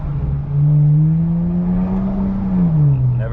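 A 2019 BMW 335i with a turbo blow-off valve revs steadily and loudly up close, its engine drone rising and then falling over a few seconds on the road with no talking.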